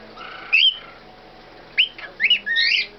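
Pet bird Meeko lets out several bright whistled chirps and sharp squawks in short bursts, close and clear against a quiet room.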